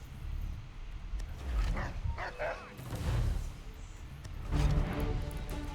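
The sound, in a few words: dog barking in the video game Assassin's Creed III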